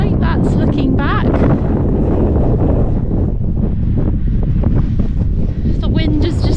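Steady wind buffets the microphone on an open Lake District fell walk near Branstree and Selside Pike, a constant loud roar with gusty swells throughout, while a voice talks over it.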